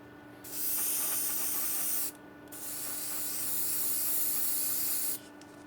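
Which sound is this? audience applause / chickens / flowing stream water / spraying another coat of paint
spraying another coat of paint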